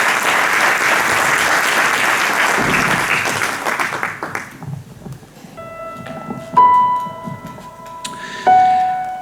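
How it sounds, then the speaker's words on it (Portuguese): Audience applause at a live romance reading event fills the first four seconds as dense, loud clapping, then fades out while sustained musical tones take over. "Uma salva de palmas, por favor,"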